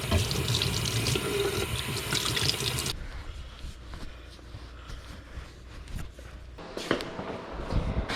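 Running tap water spills into a sink as a polished motorcycle triple clamp from an Ultra Bee is rinsed, a steady close splashing wash that grows louder and denser at the start and again near the end.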